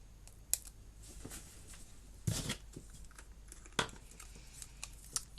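A sheet of adhesive backing peels away from a paper card-making piece in a few short, crisp ripping bursts, one louder tear near the middle, amid faint rustling of paper and card on a quiet table.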